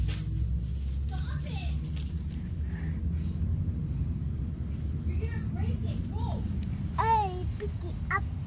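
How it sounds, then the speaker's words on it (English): Crickets chirp in a thin, high, continuous trill during an outdoor bug hunt, faint beneath nearby children's and adult voices talking over low background rustle. "Oh, there's some crickets."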